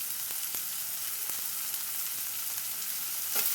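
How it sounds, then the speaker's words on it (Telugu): Potatoes fry in oil in a pan while browning, a steady bright sizzle with faint occasional stirring clicks, close and continuous with no voices. "దీన్ని మంచిగా కొంచెం బ్రౌన్ కలర్ వచ్చేదాకా ఫ్రై చేసుకుందాము."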